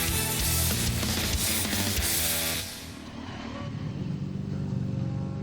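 Superbikes from the Pirelli Ultimate Superbike Challenge 2014 race past on track, a loud dense roar of engines that drops away sharply midway, leaving a steadier, quieter engine drone.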